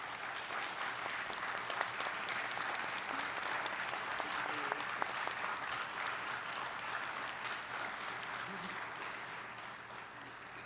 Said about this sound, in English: please join me in giving our panelists a really wonderful round of applause